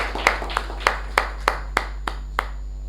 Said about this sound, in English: please give him a big round of applause for taking up the job for the first time